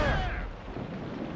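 Naval cannon fire from a sailing warship in Assassin's Creed Rogue: a heavy boom at the start that rolls into a long, rumbling decay, with the low roar lingering loudly to the end.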